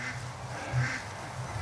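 Ducks quack a few times close by, a short burst of nasal calls over a soft background hum.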